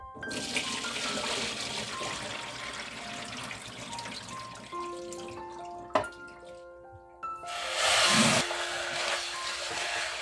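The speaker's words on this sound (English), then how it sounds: "Washing something twice in running water will make it cleaner." Tap water runs steadily into a sink while lettuce is washed for a Korean lettuce salad. The rushing flow eases about halfway, leaving scattered drips and clinks, then a brief louder gush of water near the end.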